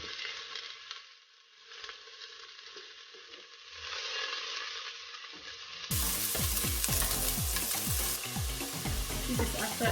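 Lentils and onion frying and being stirred in a pan, a soft sizzle at first, then a louder, denser frying with rapid scraping stir strokes in the second half, close and steady.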